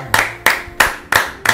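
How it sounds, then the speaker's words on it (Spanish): Five loud, evenly spaced hand claps ring out up close for a podcast guest in an apartment setting, crisp and sharp with a brief decay after each. "El aplauso, por favor."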